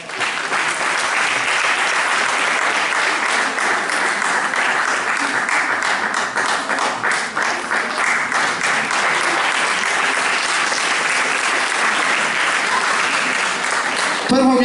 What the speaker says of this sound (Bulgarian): Супер, аплодисменти!